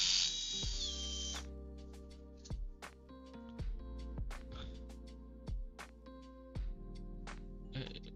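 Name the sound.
powered screwdriver removing Loctite screws from Xbox Series X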